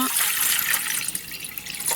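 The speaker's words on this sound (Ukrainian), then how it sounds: "мені сюди треба у чисту миску налити чистої води" Water splashes and trickles into a bowl at close range, a brief bubbly pour.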